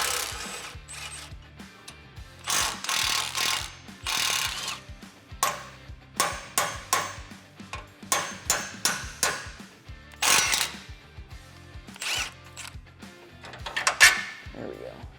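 Bolts of 12mm being worked loose from a frame brace under a Tacoma, a string of ratcheting wrench bursts with metallic clicks and pauses between them, close and fairly loud, with a low hum running underneath.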